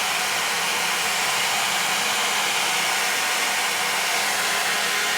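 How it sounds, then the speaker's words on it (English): A hair dryer blows steadily at full power, a loud continuous airy whoosh close by with no pauses or voices. "I'm gonna use my blow dryer to just set all of this up"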